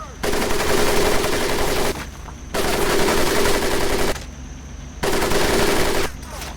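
Machine guns fire in three long sustained bursts, each lasting about two seconds with short pauses between, during a military training course in the shooter game Medal of Honor Pacific Assault; loud and close, without talk.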